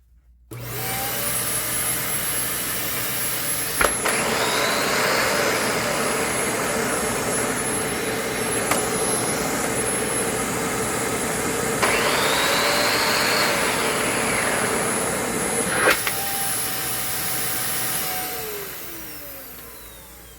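A Dyson DC15 upright vacuum cleaner runs steadily and loudly for about twenty seconds, a constant motor roar with a high whine, shifting slightly in tone as it moves.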